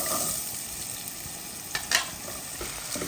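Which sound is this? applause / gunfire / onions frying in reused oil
onions frying in reused oil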